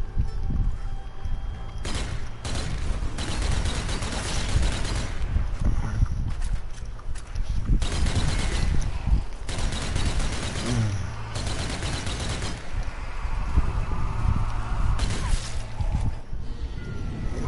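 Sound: shotgun fire against zombies in video game Dead Army

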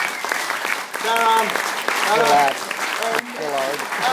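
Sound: audience applause at a jazz club concert

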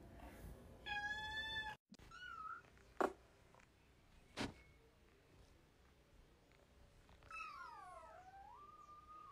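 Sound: cat meowing while trying to get into a drawer

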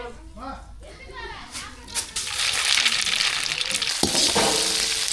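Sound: mustard seeds sizzling in hot oil, tempering for sambar

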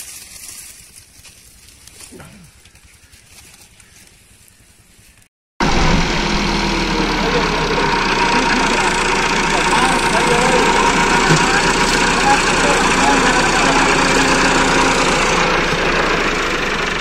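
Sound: tractor engines idling

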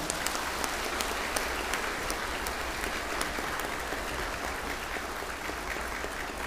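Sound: audience applause at Buddhist gathering

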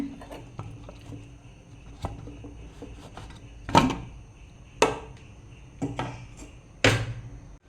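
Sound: opening a pressure cooker

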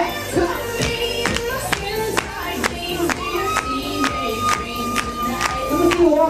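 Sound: crowd clapping at bar mitzvah party

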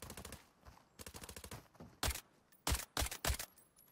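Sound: gunfire in the video game Arena Breakout

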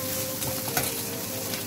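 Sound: stirring green chili, onion and ginger frying in a pan

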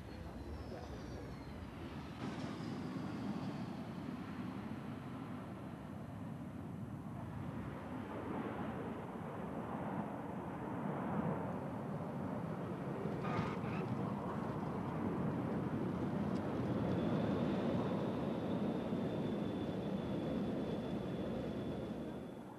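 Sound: British Aerospace 146 airliner taking off

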